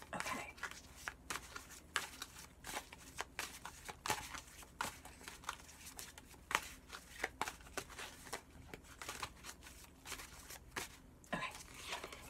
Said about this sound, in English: we're just giving them one last good shuffle